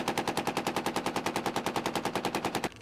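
A 9mm Luger gun fires full metal jacket rounds in one rapid, even burst of about two dozen sharp shots, loud and close, then stops abruptly.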